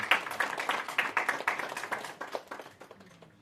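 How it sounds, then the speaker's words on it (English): A modest round of applause at a wealth and real estate event, a small group's quick, distinct claps that start firmly and taper off toward silence. "A round of applause, ladies and gentlemen"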